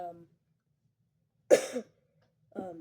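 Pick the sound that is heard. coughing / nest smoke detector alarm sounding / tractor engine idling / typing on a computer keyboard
coughing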